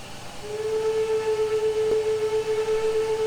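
A steam locomotive whistle from an MNRR T-3 4-6-0 in the train simulator game Trainz 2019 sounds as one long, steady, loud tone. It starts about half a second in and holds to the end.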